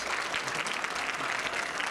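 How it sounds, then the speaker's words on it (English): An audience at a homeless address event claps together in a brief, steady round of applause, dense and close, with no voices standing out. "a big hand of applause for Cindy Crain"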